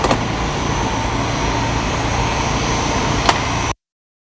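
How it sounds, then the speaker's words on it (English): A truck cab's fan whirs steadily as a broad, constant hum mixed with road and engine drone, with no voices, cutting off abruptly near the end. "Stupid freaking fan."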